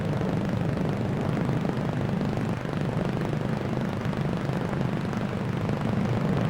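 Avro Vulcan delta-wing bomber looping at a 1950s Farnborough air display, its engines a steady, loud broadband roar that holds without a break, with no voices.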